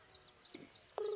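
A telephone call tone switches on near the end: a steady electronic beep with buzzy harmonics cuts in sharply after a quiet room stretch and holds loudly to the close.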